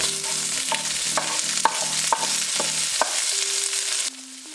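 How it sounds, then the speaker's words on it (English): Aromatics and vegetables stir-fried in oil in a wok, a loud steady sizzle cut by rhythmic scraping strokes of a spatula about every half second, then calmer near the end. "Drop some more oil into the wok and then let's get frying with the aromatics and the vegetables."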